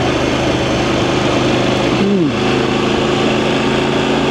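A VOGE DSX 900 motorcycle engine running steadily in third gear at low revs, a loud continuous drone with wind rush, close up, with a brief dip in pitch midway and no talking.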